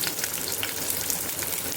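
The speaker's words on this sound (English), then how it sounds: "In that oil, chopped onions, ginger and garlic." Chopped onions, ginger and garlic sizzle steadily in hot oil in a pan, a close, continuous bright frying hiss with no pauses and no voices.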